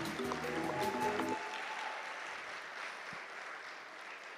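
Audience applause greets a national team at a pan-African mathematics olympiad ceremony, a broad wash of clapping that carries steadily throughout, with a voice and tones over it in the opening moments.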